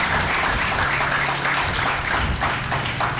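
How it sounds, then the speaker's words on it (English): A room full of people gives steady, dense applause at a foundation's back-to-school programme event, sustained at an even level for the whole stretch with no pauses. "So I just want to have a round of applause for Mrs."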